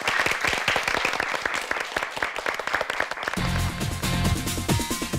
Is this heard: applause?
yes